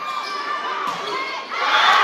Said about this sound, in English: Fans from both schools cheering on their teams.